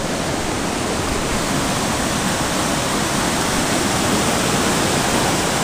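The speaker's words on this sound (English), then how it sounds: "This is a full-blown waterfall." A waterfall in Algonquin Park roars steadily and loudly, a dense unbroken rush of falling water with no voices.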